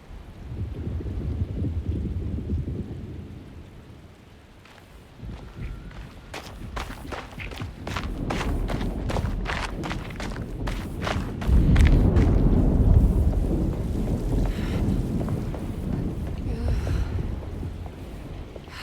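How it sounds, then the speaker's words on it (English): A thunderstorm in the video game Alone in the Dark: a dense wash of rain and low rumbling, thickening into a heavier roll of thunder midway, with a run of sharp close ticks and taps over the steady downpour. "Looks like a storm's coming."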